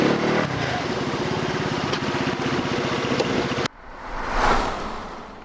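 A Peugeot Django 125cc classic scooter engine hums steadily while riding, then cuts off abruptly, followed by a whooshing rush of wind or passing traffic.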